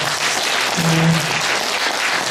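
Audience applause at an academic conference on a national dictionary museum, a dense steady wash of clapping filling the room, loud and continuous from start to end.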